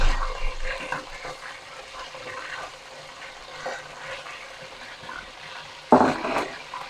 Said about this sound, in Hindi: चिकन को हम इसमें शामिल कर रहे हैं ऑयल में, इसको ताकि ये फ्राई हो जाए।